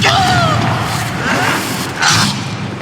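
A Confringo fire spell cast in Hogwarts Legacy goes off as a loud blast with a crashing burst and a second flare near the end, over continuous battle noise.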